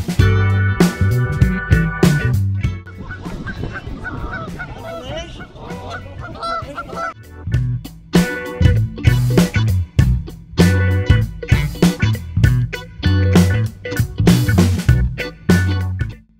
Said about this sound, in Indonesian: dua angsa ini justru berhasil membuat mental si badak hancur hingga badak itu lebih memilih kabur